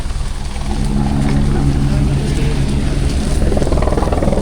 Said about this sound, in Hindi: मौसम ठीक होते ही हेलीकॉप्टर की सेवा चालू हो गई है